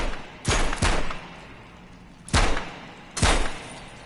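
Gunshots from a handgun in the VR game Metro Awakening: three to four loud, sharp reports fired close by, the first two in quick succession and the rest spaced about a second apart, over a steady background hiss.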